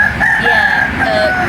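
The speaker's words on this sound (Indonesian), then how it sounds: "masih ada ayam berkokok kedengeran" A rooster crows in a single long, sustained call in the background at a basecamp in Surya Tangsel, carried over the room's steady ambience while a voice briefly speaks.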